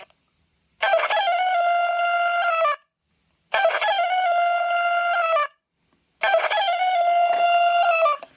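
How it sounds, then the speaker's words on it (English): An alarm clock's electronic rooster crow plays three times in a row, each a steady synthetic tone lasting about two seconds, with short silent gaps between. "That's what the rooster crow sounds like."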